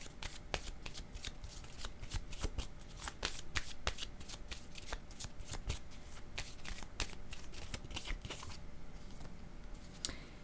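A deck of cards is shuffled for a card reading, a rapid run of crisp riffling flutters and snaps repeating close by, continuous throughout with fast, slightly irregular bursts.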